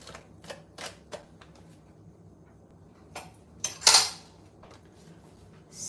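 A spoon clinks and scrapes against a dish while a coffee jelly mixture is stirred, a few scattered light taps, then a louder scraping clatter near the end, close and without talk.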